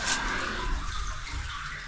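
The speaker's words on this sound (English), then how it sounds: "I think this is the stream." An underground stream flows through a cave, a steady close rush of water with a faint echoing quality and no voices.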